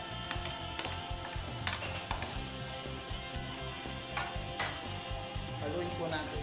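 Pork, potatoes and carrots frying in a pan give a quiet, steady sizzle with small clicks of utensils throughout and no voice on top.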